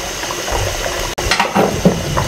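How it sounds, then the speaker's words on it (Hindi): Half a litre of water is poured into beef nihari and mixed through, producing close sloshing, bubbling and stirring clatter from the pot with no voices. "ये हाफ लीटर पानी इसके अंदर शामिल करके इसको अच्छे तरीके से मिक्स करना है"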